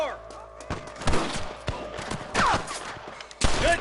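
Gunfire in the Red Dead Redemption video game, with several sharp shots scattered across the stretch and some close, loud blasts. Shouting voices can be heard between the shots.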